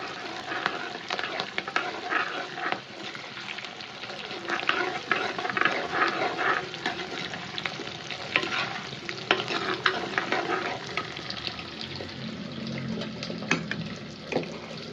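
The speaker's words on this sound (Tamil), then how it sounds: "நல்லா கோல்டன் ப்ரௌன் ஆகிற வரைக்கும் வதக்கிக்கலாம்" Frying and stirring in a pan until golden brown, with continuous busy scraping and stirring over a steady sizzle, close by, for about fifteen seconds without speech.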